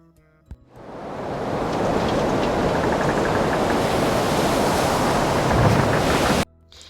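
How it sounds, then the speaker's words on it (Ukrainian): Stormy sea with waves and wind roaring as a loud, steady broadband wash that lasts about five and a half seconds and then cuts off abruptly. No one speaks. "Пішли хвилі синім морем, називається то штормом."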